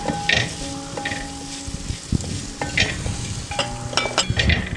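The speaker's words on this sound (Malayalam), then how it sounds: "ഒരു ഗോൾഡൻ കളറാവുന്നോടം വരെ നന്നായിട്ട് നമുക്കത് ഫ്രൈ ആക്കി എടുക്കണം" Oil sizzles steadily as shallots and curry leaves fry, with a spoon scraping and clinking against the pan every so often.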